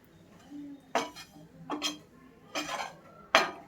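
Boiled eggs are tossed with oil and salt in an unheated pan, producing four separate clattering clinks of eggs and utensil against the metal with quiet gaps between them and no voices.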